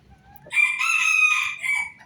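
A rooster crowing once in a pen, a single loud, close drawn-out call rising after a quiet start and trailing off into a short final note.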